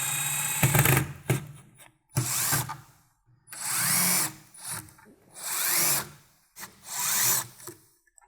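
A power driver whirs in repeated bursts of a second or so each, backing the headlight adjustment screws out of a 1979 Mustang Cobra, with brief gaps of quiet between runs.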